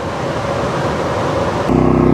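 A Pulsar GD400BN generator runs with a steady, loud engine drone and broadband hum, and its tone shifts to a deeper, more pulsing rumble near the end as the load or speed changes.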